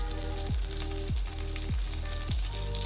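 Crushed garlic and curry leaves frying in oil for a Maharashtrian buttermilk kadhi, a steady close sizzle with a faint whistling tone that sweeps down roughly every half second underneath.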